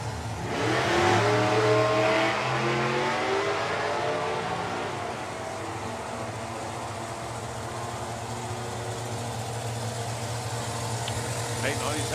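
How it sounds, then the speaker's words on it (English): A new Corvette on a drag strip at a motorsport festival, its engine roaring loudly and rising in pitch as it accelerates before settling into a steady distant drone, with a commentator talking over it. "Well, unfortunately, for Phil Toppin, he hasn't got down the track yet in the new Corvette."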